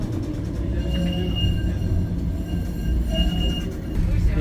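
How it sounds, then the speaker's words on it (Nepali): A train rolls past near a large bridge in Lisbon, giving a steady, close rumble with faint metallic wheel squeal throughout and no voices. "खोलापारी र खोलावारीको लागि ब्रिज अनि ट्रेन पनि आउँदो रहेछ"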